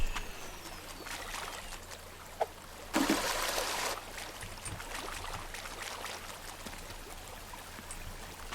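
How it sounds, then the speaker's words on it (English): Water trickling and a pump running on a flooded farm in the DrainSim game, a soft continuous flowing wash with a louder gush lasting about a second partway through, steady and unaccompanied by speech. "This pump is still, pumping out water from there. And we do have some trickling down from there into here."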